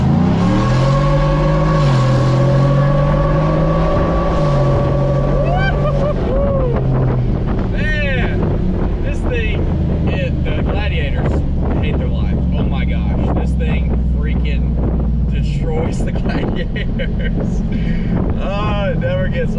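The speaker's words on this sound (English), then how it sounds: "We're just gonna floorboard this thing and see how she rips." A flex-fuel truck fitted with an S&B cold air intake, floored from a roll: the engine note climbs steadily in pitch as it accelerates hard. The roar is loud and close, and heavy wind buffeting builds as speed rises.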